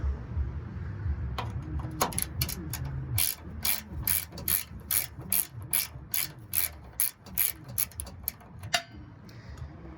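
Hand wrench loosening a camper tie-down bolt on a Toyota Tundra, a close, crisp run of ratcheting clicks in a steady rhythm after some initial fumbling and clanks.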